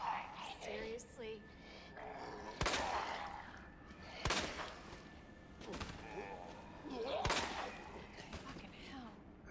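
Gunfire in the video game Resident Evil 2: a few sharp, isolated shots a couple of seconds apart, each with a brief crash, under ongoing chatter from players.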